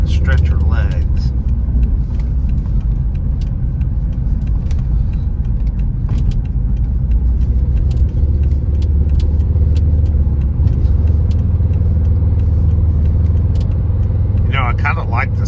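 A 2007 Volvo C70 convertible cruising on the freeway, with a steady, loud low engine and road rumble throughout and a speaking voice over it.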